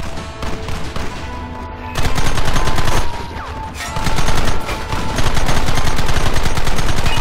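Gunfire in Red Dead Redemption, loud, close, rapid repeated shots with bursts of machine-gun-like fire that grow denser and continue steadily to the end.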